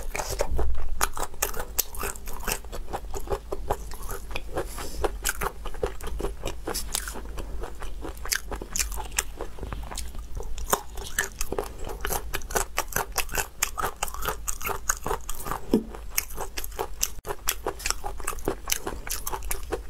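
Spicy mala-flavoured meat with cartilage is chewed close up, a continuous stream of crisp crunches and bites with steady snapping texture, no talking over it.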